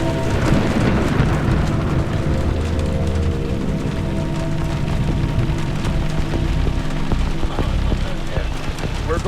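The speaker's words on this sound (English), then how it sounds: "we're getting blasted to the side now with rain" Heavy rain lashes a vehicle driving through a severe storm with a funnel cloud nearby, a loud, dense roar of rain and wind with low rumbling throughout, close and continuous.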